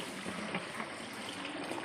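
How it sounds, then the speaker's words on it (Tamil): Water running from a village tap into a container in the morning, a steady broadband trickle and splash close by, alone with no talk. "ஊர் குழாயில் தண்ணி வருது, பிடிக்கிறாங்க எங்கள் அம்மா தண்ணி."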